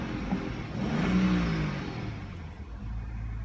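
BMW 535i xDrive engine starting up and briefly revving, a short rising then falling engine note over a low idle rumble, moderately loud and close.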